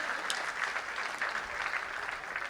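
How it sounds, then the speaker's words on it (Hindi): Audience at a Hindi kavi sammelan (poetry gathering) in Merta breaks into steady, sustained applause, many hands clapping at once with a dense, even texture and no voices over it. "तालियां बजाओ"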